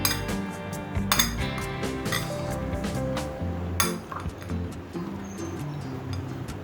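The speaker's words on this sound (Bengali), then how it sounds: "এবার সমস্ত কিছু ভালোভাবে মিশিয়ে নেব।" Metal spoon clinking and scraping in a bowl as crispy corn is tossed with a little lemon juice, a run of close, bright clatters and taps with short pauses, no voices.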